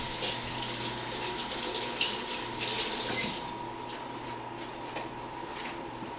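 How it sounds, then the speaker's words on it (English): Kitchen tap running steadily while hands and a knife are washed under it, a close, even rush of water that drops slightly in level partway through, with no talking. "Let me wash my hands. Wash this knife off."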